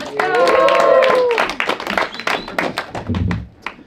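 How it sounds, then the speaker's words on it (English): Comedy club crowd at Bushwick Comedy Club, New York, cheering and whooping loudly for the next comedian, with a dense burst of hand claps that thins into scattered clapping and a few shouts. "Make some noise for Brendan Smith."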